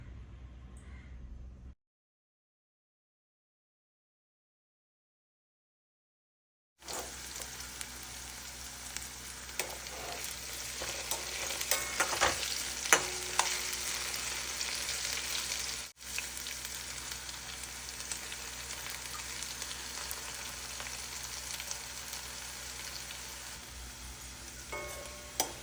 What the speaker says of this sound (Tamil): இனி நம்ம வானலியில் எண்ணெய் காய வச்சு இதை பொரிச்சு எடுத்துடலாம்.